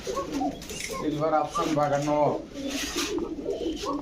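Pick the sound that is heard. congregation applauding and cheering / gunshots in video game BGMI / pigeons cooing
pigeons cooing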